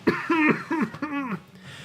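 Someone coughs and clears their throat in a few short, raspy bursts close to the microphone.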